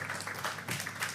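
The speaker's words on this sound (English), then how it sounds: "please give a warm round of applause as we make welcome the one and the only Mrs. Bumi George" Audience applause welcoming a speaker onto a women's health panel, a brief steady burst of many hands clapping, moderately loud and fairly close.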